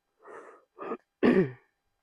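A person with a cold gives three short, close throat-clearing coughs, the last one the loudest, separated by brief pauses.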